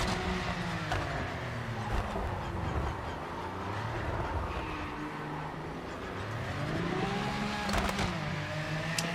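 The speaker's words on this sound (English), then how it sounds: "The Porsche's got mental acceleration, takes off like a genuine rocket." A Porsche race car in a racing video game accelerating hard, its engine note climbing and falling through gear changes amid other cars, loud and continuous with a few sharp transient clicks.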